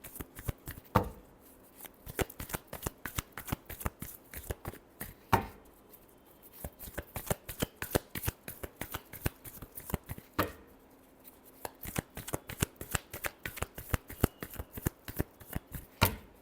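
A deck of tarot cards is shuffled repeatedly, giving rapid crisp riffling clicks and slaps in quick bursts with short pauses, close and clear with no voices.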